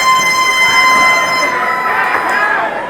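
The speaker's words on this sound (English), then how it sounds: "after blasting him with that air horn" Steady, loud air horn blast at a live wrestling event, a sustained bright tone held for nearly three seconds amid crowd noise, tapering slightly toward the end.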